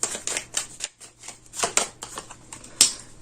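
Tarot cards shuffled and drawn by hand, a close, rapid run of riffling flicks and soft slaps with brief pauses between bursts, no voice over it.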